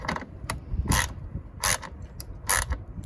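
A ratchet tightens the battery hold-down on an Acura TLX with quick clicking bursts, four or five short ratcheting strokes at close range with quiet gaps between.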